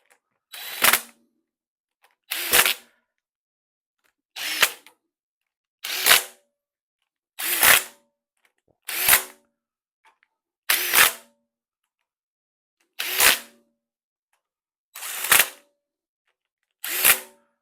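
A 1/4-inch impact driver runs down the cylinder head bolts on a Ford 302 engine in a garage, with about ten short, loud rattling bursts separated by quiet pauses.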